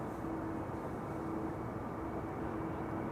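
A Chinese Boeing 777 airliner bound for Shanghai approaches Schiphol, giving a continuous low, dull engine rumble that stays steady and fairly distant throughout.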